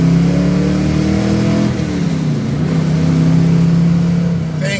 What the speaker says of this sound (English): when you hear that a car has a small block Chevy, it's got gears and a posi unit, and it's got a 4-speed